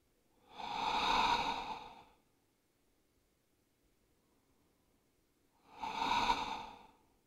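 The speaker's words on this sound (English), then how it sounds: "Deep belly breathing." Deep belly breathing in child's pose: two slow, airy breaths, each swelling for about a second and a half, separated by several seconds of near silence, close and soft.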